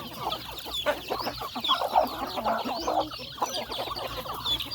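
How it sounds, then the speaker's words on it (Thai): Several young fighting cock chicks clucking and peeping continuously on a Thai farm, overlapping chatter at moderate volume from nearby, with a soft outdoor background. "ลูกไก่ชนทั้งหมดเลยนะ"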